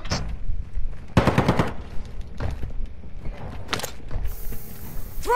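Bursts of automatic gunfire in Call of Duty Warzone, with a long dense volley in the middle and shorter shots on either side, loud and close.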